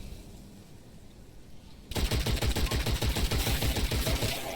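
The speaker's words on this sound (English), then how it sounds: "These guys have long rifles that they shoot at you" Enemies in the FPS roguelite Witchfire open up with long rifles: after a quiet start, a loud, sustained rapid burst of gunfire hammers away in a dense, rhythmic stream until the end.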